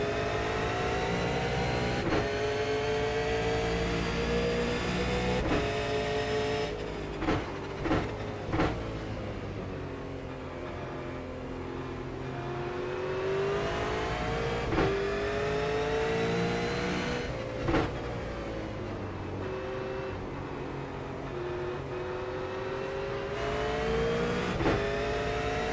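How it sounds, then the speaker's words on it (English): V8 Supercar race car engines roar continuously at Watkins Glen in iRacing, revving up and down through gear changes as a fast car chases close behind, loud and steady throughout. "Now with a fast car behind me, chasing and trying to pass me again."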